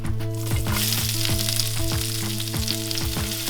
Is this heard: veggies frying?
yes